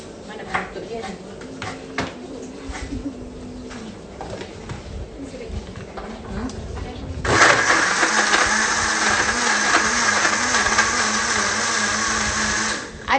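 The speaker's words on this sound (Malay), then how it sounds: "Dan kita nak blend lagi sekali bawang." A kitchen blender starts abruptly partway through and whirs loudly and steadily while blending onion, fish and coconut. Before it starts, someone speaks over a quiet room with a pigeon cooing nearby.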